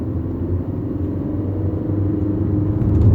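Manual-transmission car engine revving toward 2,500–3,000 RPM, a steady low rumble that builds slightly in loudness over about three seconds, close and continuous with no talk.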